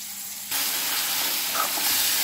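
Onions sizzling in hot oil in a pan, a sudden loud steady hiss that starts as they hit the oil and keeps crackling close up, no talking.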